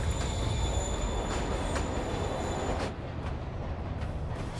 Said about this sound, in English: Catch a train.